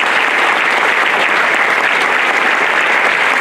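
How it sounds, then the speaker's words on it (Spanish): Audience applause at a political party event, dense and loud clapping sustained evenly throughout the short stretch with no voices breaking through. "Un fuerte aplauso también para él."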